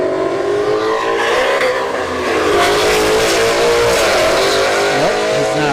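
An Audi RS5 and a Volkswagen Golf GTI launch side by side down a drag strip, a loud sustained roar of engines revving and climbing through gear changes, with crowd noise beneath.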